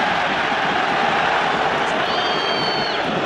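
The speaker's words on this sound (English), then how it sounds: "The crowd are screaming them forward." A rugby crowd at a Toulouse vs Leinster Heineken Cup quarter-final roars steadily in a dense, continuous wash of cheering and shouting, with a brief whistle-like tone rising above it.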